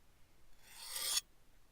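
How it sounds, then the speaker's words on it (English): A single sharpening sound effect: a short rasping scrape that swells for about half a second, then cuts off abruptly, heard alone against quiet. "I was hoping I had something like a sharpening sound."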